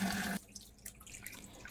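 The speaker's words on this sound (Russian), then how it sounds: "Затем вытаскиваю требуху и эту воду сливаю обязательно." Boiling water from a pot of tripe pours into a sink in a loud rushing splash that stops abruptly, leaving faint drips and a quiet room.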